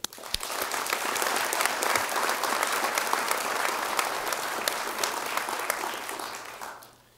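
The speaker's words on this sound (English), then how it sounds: "Please give a big round of applause for Zach Crater." Audience applause at a high school soccer awards presentation honoring an all-state player, a steady wash of many clapping hands that holds for several seconds before fading out near the end.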